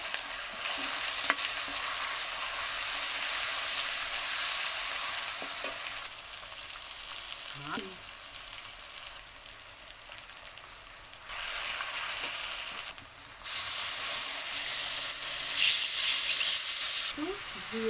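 Ginger and garlic frying for a chickpea dal with ridge gourd, giving a soft, steady sizzle with light stirring scrapes, quiet throughout and swelling a little louder near the end.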